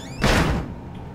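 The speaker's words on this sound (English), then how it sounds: "let's close this door." A heavy door swinging shut in the horror video game Outlast, one solid thud with a short rumbling tail, fairly loud against a low background hum.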